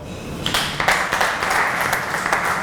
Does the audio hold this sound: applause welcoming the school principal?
yes